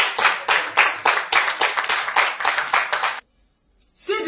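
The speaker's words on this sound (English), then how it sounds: "What is the meaning of the clapping?" Rhythmic clapping by several hands, close and loud, in a steady beat of about four claps per second that lasts roughly three seconds and then stops abruptly before a brief sound at the end.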